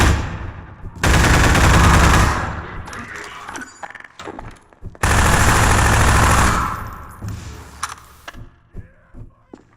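Automated gun turrets firing in Half-Life 2: Episode Two, two long loud sustained bursts of rapid gunfire separated by a pause, followed by scattered mechanical clicks and short taps as things settle.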